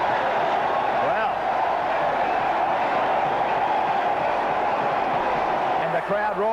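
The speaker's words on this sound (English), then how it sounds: "And the crowd roaring for more." Rugby test crowd in 1980 at New Zealand versus Australia, a sustained, dense roar from a large stadium audience filling the whole stretch, with a commentator speaking over it.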